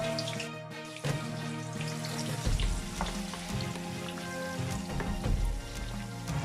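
Two peeled onions frying in a large amount of palm oil for a Nigerian eggplant stew, a loud, dense, continuous sizzle close by with occasional stirring clatter and no talk.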